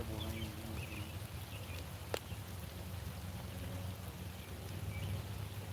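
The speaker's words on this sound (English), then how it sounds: "Rain feels pretty good though, I'm not gonna lie." Rain falls outdoors during a humid fishing trip, a steady soft hiss with scattered light drops, one sharp tap partway through and a low background rumble.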